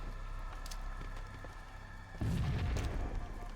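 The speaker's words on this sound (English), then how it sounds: "Maybe with a grenade jump." A grenade blast in the Halo game, a single low boom bursting in about two-thirds of the way through and rumbling on to the end over a steady background hum.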